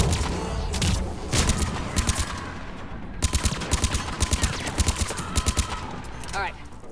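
Sniper rifle fire in the video game Mass Effect 3 comes as a rapid string of sharp shots over a busy battle din. Volleys run through the clip, with one dense burst near the end.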